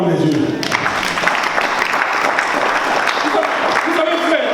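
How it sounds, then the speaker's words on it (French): A church congregation breaks into sustained applause acclaiming the word of God at an evangelistic healing service, loud and close, with a voice heard at the start. "on peut acclamer la parole de Dieu"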